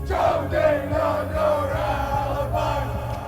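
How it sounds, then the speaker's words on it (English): A bar crowd at a wedding celebration chants a man's name in unison, loud rhythmic group shouting repeated in pulses close by, filling the room. "the crowd chanted his name like he was a rock star"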